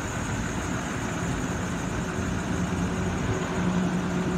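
A 2012 Ford F-250 four-wheel-drive truck with a 6.2 liter V8 engine idles steadily nearby, a low, even rumble with a faint higher hum, alone without talk.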